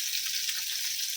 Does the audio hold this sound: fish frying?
yes